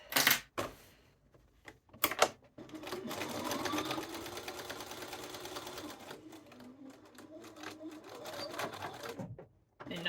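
A sewing machine stitches a duster coat collar with a rapid, continuous rattle for several seconds after a few sharp clicks and taps, heard up close.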